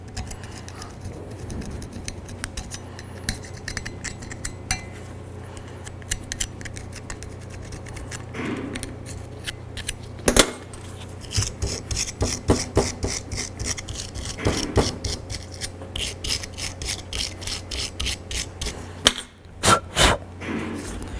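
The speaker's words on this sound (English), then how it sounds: "Just go ahead and scrape that down a little bit" Debris is scraped off a Dodge Journey brake caliper bracket with rapid, repeated close-up scratching strokes over a low mechanical hum, growing busier and sharper partway through.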